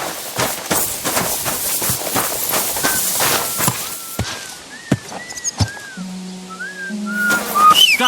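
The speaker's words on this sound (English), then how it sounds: "Are you whistling just for fun?" A character whistles a wandering tune in Kingdom Come: Deliverance II, rising and falling melodic notes heard fairly close over footsteps, rustling and ambient game sounds, with a lower tonal sound joining near the end.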